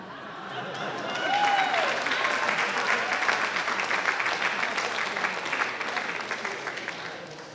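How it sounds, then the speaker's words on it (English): An audience at a city council candidate debate applauds a short answer about building a swimming pool, steady clapping that swells and stays fairly even for several seconds, with a brief voice near the start. "That may have been the shortest answer, but it got applause."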